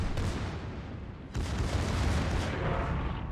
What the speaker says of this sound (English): So now I'm just going to focus all of my firepower onto the Iowa.